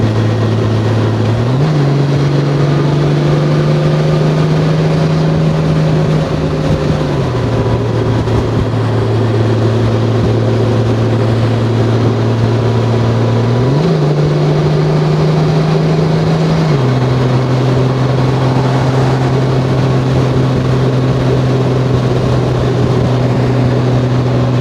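A 2021 Honda Gold Wing with a DCT gearbox rides along at a steady pace, its loud, continuous engine hum stepping up and down in pitch several times as gears change, with no speech.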